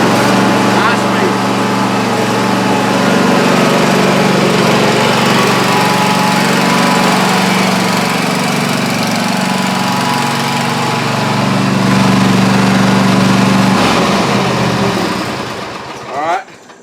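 A 46-inch zero-turn lawn mower runs at high speed, its engine a loud, steady close drone with a hum that rises and falls slightly before the engine winds down near the end.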